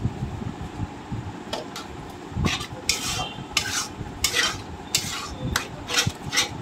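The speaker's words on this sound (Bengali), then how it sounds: "ভালো করে মশলাটার সাথে মিশিয়ে নিচ্ছি" Pointed gourd and shrimp being stirred into a spice paste with sugar and salt in a pan, a utensil scraping and clinking in repeated short strokes over a soft sizzle, close and moderately loud.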